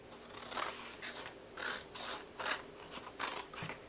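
Scissors slice through paper gift box sections in four or five rhythmic, rasping strokes, close up and moderately quiet, with no talking.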